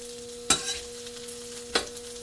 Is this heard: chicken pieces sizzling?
yes